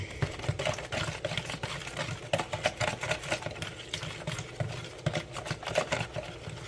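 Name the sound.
whisking a sauce for pepper steak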